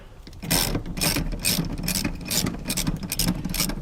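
A ratchet loosens seat nuts on floor studs of a P71 Crown Vic Police Interceptor, clicking in quick, even strokes close up, repeated in bursts with no talk.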